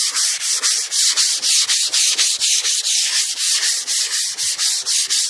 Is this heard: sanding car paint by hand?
yes